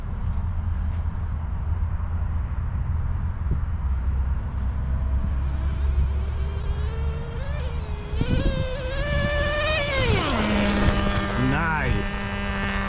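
A Traxxas Nitro Rustler 2.5 nitro RC truck on 33% nitro fuel, fitted with sand paddle tires, drives on beach sand. Its engine whines steadily, then revs high and falls off to a lower idle-like drone, under wind and surf noise.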